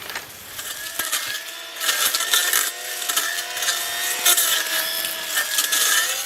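A Milwaukee M18 Fuel Quick Lok battery brush cutter cutting around an area outdoors, a loud high whine with shifting pitch and bursts of rough cutting noise as the blade bites into material.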